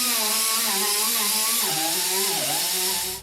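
Power sander working contouring filler on a Mercedes W109 front fender patch repair, a steady high whine with shifting tones that runs loud and close for about three seconds, then cuts off.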